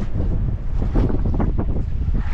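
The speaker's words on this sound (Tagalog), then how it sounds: "Grabe ng mga alon yan." Rough water and wind buffet a small wooden paddle boat, with constant low rumbling wash and blustery gusts over the microphone, loud and close throughout.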